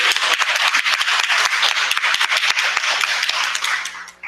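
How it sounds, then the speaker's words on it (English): A crowd at an outdoor resistance rally in St. Petersburg breaks into a round of applause, dense rapid clapping sustained for several seconds before tapering off at the end. "Round of applause for that."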